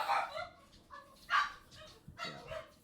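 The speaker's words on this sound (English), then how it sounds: "Also, my dog. My dog is pretty excited" An excited dog barks in short bursts at a household, clearly audible over a low, noisy indoor background with no one talking.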